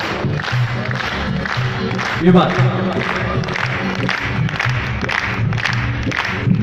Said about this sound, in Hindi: दिल्ली के भक्तों की तालियां बजाओ ना